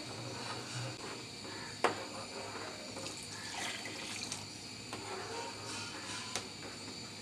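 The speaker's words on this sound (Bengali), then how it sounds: "প্রায় 1 লিটার মতো পানি দিয়েছি।" About a litre of water is poured into a cooking pot of lentils for beef haleem, a faint steady splashing stream with a thin cricket chirp in the background.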